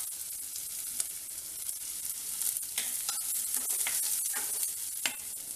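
Green chilli, onion and capsicum sauté in a hot pan for garlic veg fried rice, a steady close sizzle broken by scraping stirs of the spatula, with no voices.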